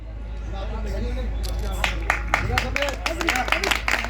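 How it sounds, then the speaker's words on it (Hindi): Applause builds from a crowd welcoming badminton trophy winners at a tournament prize ceremony during a martyrs' fair, with scattered claps thickening into steady clapping over ongoing crowd chatter. "बहुत शानदार तालियों की गड़गड़ाहट से आप लोग उनका स्वागत करते रहिए"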